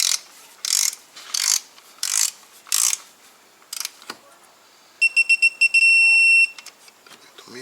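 Ratchet tightening a screw on a Porsche Macan ignition coil, a series of short rasping clicks in quick strokes, close and crisp, followed by a brief electronic beeping.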